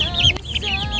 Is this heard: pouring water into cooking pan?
no